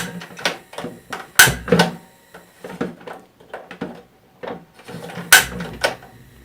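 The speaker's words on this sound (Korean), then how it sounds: "위에 레버를, 손잡이를 누른 채로 끝까지 돌려줍니다." A compact winter-camping gas heater's ignition knob is pressed and turned fully, giving a close run of small mechanical clicks and rattles punctuated by two sharp, loud snaps a few seconds apart, with no talking.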